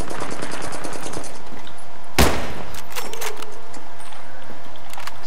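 A sharp burst of video game gunfire with rapid shots and a loud crack, followed by scattered clicks and rattles.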